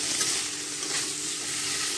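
Boiled potatoes fry in masala in a pan while being stirred, giving a steady, close hiss of sizzling oil that runs without pause and with no voices.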